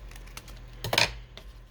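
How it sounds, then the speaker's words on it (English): Scissors snip through a jagged paper edge on a junk journal waterfall flip pad, a short crisp cut of a few close snips, heard alone against a quiet room. "So I'm just going to cut that down."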